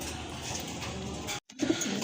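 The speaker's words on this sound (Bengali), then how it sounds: "আরেক জোড়া কবুতর দেখেন" Pigeons offered for sale make soft, low cooing over faint ambient noise. A short silent break comes partway through, and then the cooing resumes.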